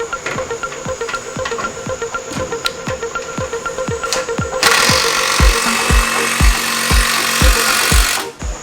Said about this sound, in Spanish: Voy a poner una tuerca en la pared. Una especie de remache tuerca.